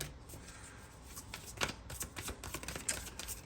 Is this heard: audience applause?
no